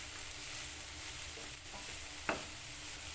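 Broccoli stirred in a pan over a medium flame gives a steady soft sizzle with one brief sharp scrape of the spoon near the end.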